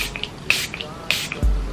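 Two short, bright hissing spritzes of a makeup setting spray mist bottle, about half a second apart, close to the microphone in an otherwise quiet room.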